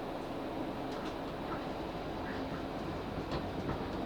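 A South Western Railway Class 458 electric train runs along near Hounslow and Isleworth, heard from on board as a steady, even rumble of wheels and motors throughout, with faint clicks and no speech.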